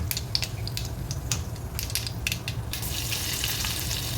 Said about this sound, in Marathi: राई घालायची आहे आणि ती तडतडू द्यायची आहे थोडीशी.